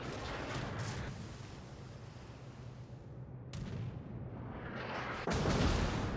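Secondary guns on a Harekaze destroyer firing in World of Warships, a steady rumbling barrage of repeated booming shots with sharper bursts near the middle and a louder surge toward the end.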